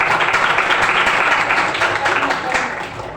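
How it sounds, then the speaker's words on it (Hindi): Students and guests at a girls' school event in Nainital clap together in a dense, continuous round of applause that eases slightly toward the close. "और आप सब तालियां बजाइए।"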